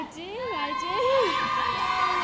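Supporters at the Rose of Tralee festival cheer and whoop for the Manchester entrant, rising yells and shouts from a close crowd, with voices calling out loudly over the noise.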